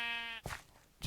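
A single Minecraft sheep bleat sounds close and clear as a short wavering tone, followed by soft game noise and another brief burst.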